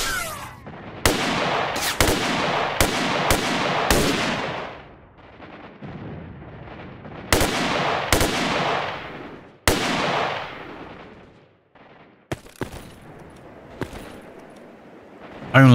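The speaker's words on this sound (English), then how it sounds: "Gauss rifle." Gauss rifle shots from the video game STALKER Narodnaya Solyanka: sharp, loud single cracks with long, rolling decays, fired in irregular bursts with quieter gaps between.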